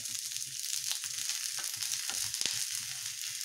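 Corn kernels frying in a pan: an even, bright sizzle runs throughout, broken by occasional stirring scrapes and little pops, close and moderately loud.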